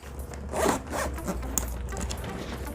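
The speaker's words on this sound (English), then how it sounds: "Zip it up." A zipper is pulled closed on an Uber Eats delivery bag with a waterproof zipper, giving one continuous close rasping zip with a brief louder burst near the start and no talking.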